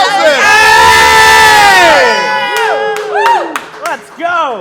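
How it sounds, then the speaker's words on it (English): A small group cheers and whoops loudly at close range in a sustained shout that breaks into shorter excited yells and laughter-like cries. "We were cheering for you."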